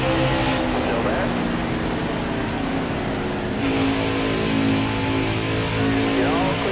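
Race car engine in a NASCAR-style racing video game at Homestead, droning steadily at high revs throughout with shifting pitch, under a voice talking over the engine.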